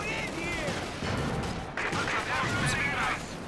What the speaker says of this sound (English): Bazooka's plinking off that Panzer IV's armor.